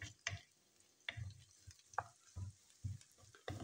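Onions for chicken macaroni cook over high heat in a pan, with a low sizzle broken by regular spatula strokes and scrapes about every half second, fairly quiet and close.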